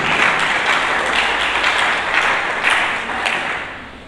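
Church congregation applauding together at a year-end service, dense loud steady clapping that fades slightly toward the end.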